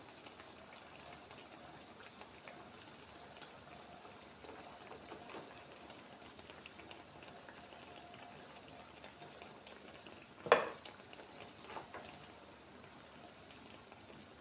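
Yeast-free Turkish pişi dough fries quietly in hot oil, giving a soft, steady bubbling crackle with one sharper clatter near the end.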